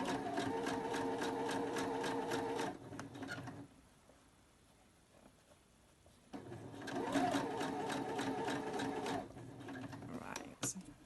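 A sewing machine stitches around the corner of a scarf: a steady run of rapid needle strokes, a quiet pause while the presser foot is lifted to turn the fabric, then a second close, even run of stitching.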